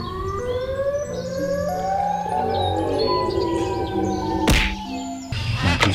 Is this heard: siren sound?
yes